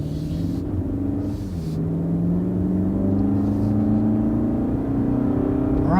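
A Toyota Camry accelerates along a road toward an improvised drag strip, its engine giving a steady, throaty rising drone close by, with low rumble and whir and no talking.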